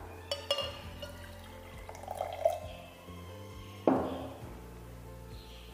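Water being poured and dripping into a container for a traditional Burundi food experiment, with soft splashes, a trickle, and a sharper pour burst partway through, close and quiet.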